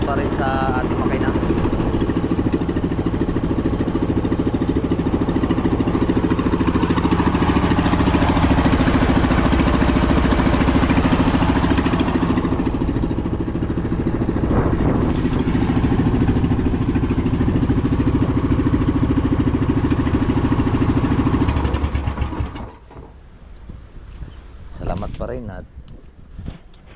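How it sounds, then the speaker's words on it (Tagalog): A loud, steady fishing boat engine drone runs continuously for over twenty seconds, then drops away abruptly, leaving quieter clatter and faint sounds. "hindi siya pumapalya yung makina"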